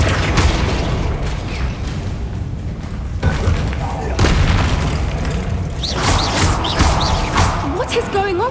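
Flipendo spell cast in Hogwarts Legacy, heavy booming magical impacts and thuds over a busy combat soundscape, with a voice heard briefly amid the effects.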